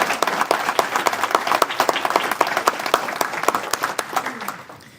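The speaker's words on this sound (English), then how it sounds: "could have Clarence and his family please stand so we can give them a nice round of applause" Audience applauds Clarence and his family at a high school hall of fame ceremony, a steady round of close, dense clapping with sharp individual claps that tapers off at the end.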